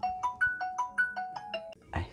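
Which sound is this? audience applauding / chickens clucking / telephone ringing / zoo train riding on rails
telephone ringing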